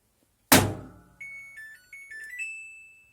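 A single heavy thud of a rubber mallet striking a faulty Samsung EcoBubble WF1124XAU washing machine rings out close by, followed by a series of electronic beeps from the machine chiming a short tune.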